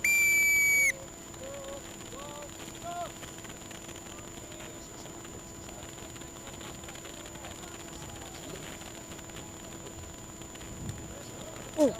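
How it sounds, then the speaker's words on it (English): A referee's whistle at a quadball community match blows one sharp, loud blast at the start, followed by quieter ambient field noise with scattered faint chirps and distant voices. "Resume on my whistle."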